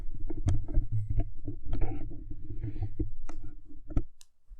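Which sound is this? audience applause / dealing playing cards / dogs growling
dealing playing cards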